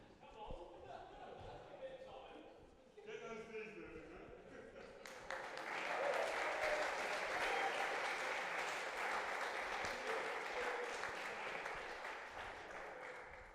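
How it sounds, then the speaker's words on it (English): A tennis final crowd at Coolhurst breaks into sustained applause after the final point, quieter talk and sounds at first and then a broad, steady wash of clapping that holds to the end. "The applause on the final point and people standing was a fitting tribute to what was an unbelievable final."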